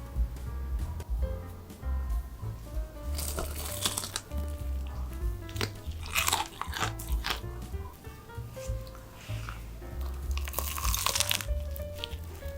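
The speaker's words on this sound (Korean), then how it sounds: "겉에 붙어있는 라면은 엄청 바삭해져요." A spicy buldak cheese hot dog with a crispy fried ramen-noodle coating and mozzarella inside gets bitten and chewed, giving repeated close, crisp crunches in bursts with no talking.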